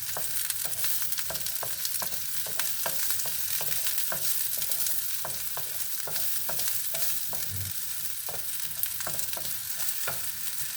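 Chopped white onion fries for chopsuey in a pan, a constant close sizzle broken by a regular ticking of the spatula scraping and stirring, with no talking.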